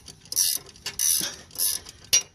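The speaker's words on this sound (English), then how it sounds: "Ratcheting wrench, after you break it with a regular combination 14, and you should be able to ratchet this little bugger out." A ratcheting wrench backs off a front sway bar link nut on a 2013 Honda Civic, giving four quick bursts of sharp clicking ratchet teeth close up, with brief pauses between strokes.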